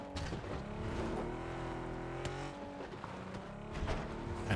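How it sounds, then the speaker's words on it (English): A camouflaged stealth car in a battle royale shooter drives along with a steady engine drone and shifting tonal whine, close and continuous, with small bumps and a louder surge near the end. "Back into their extremely discreet"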